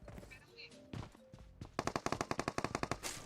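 Rapid automatic gunfire in PUBG Mobile, a fast burst of about a dozen evenly spaced loud shots, preceded by a few single in-game sounds and voices in the background.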